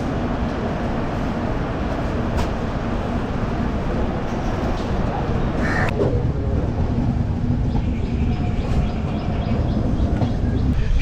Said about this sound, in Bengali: ঘড়ি কাটায় সকাল 6:53 আর ছেড়ে দিল আমাদের কাঞ্চনজঙ্ঘা এক্সপ্রেস